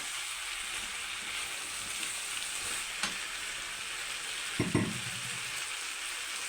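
Mixed vegetable sabzi sizzles steadily in a pan over a high gas flame, with a constant frying hiss and a couple of brief stirring scrapes partway through.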